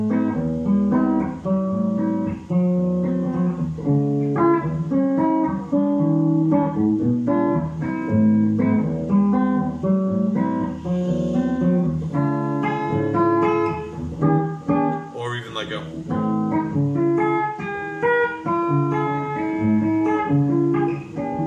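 A guitar plays a Latin-flavored chord progression for a beginner lesson, rhythmic strummed and plucked chords moving in steady bars for about twenty seconds, close and fairly loud with no talking.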